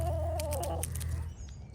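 A rooster in a winter backyard garden gives a short, close cluck over a steady low background hum.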